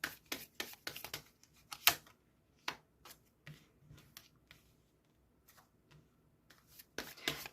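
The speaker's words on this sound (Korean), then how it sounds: "자, 추가 카드 좀 뽑아보겠습니다." Tarot cards are drawn and handled in a quiet room, giving a scattered series of crisp card snaps and flicks, with bursts clustered at the start and end and sparse taps between.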